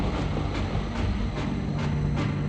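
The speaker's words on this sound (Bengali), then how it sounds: "চলছে, ট্রেন আবার চলছে" A train rolls along with a steady, loud rumble and regular, evenly spaced clacks of wheels over rail joints, with no voices.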